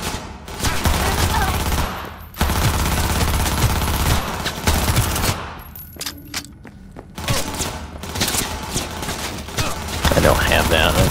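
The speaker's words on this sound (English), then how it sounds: "Who is shooting at me?" Rapid automatic gunfire in the game Cyberpunk 2077 runs in dense, loud bursts for most of the stretch, with a couple of short breaks and a voice speaking over the shooting.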